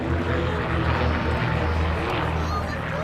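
Several Marchetti SF-260 propeller planes of the Red Devils team fly in formation, a steady, loud droning engine hum that fills the whole stretch without letting up.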